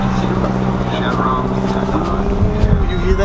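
A Subaru Forester engine runs with a steady low hum and drone, close and fairly loud, heard from inside or near the car with a faint voice in the background.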